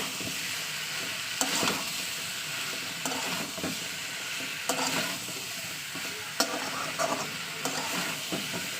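Fish and potatoes with spices frying in a pan for a drumstick fish curry, a steady sizzle under repeated scraping stirs of a spoon against the pan, close and continuous.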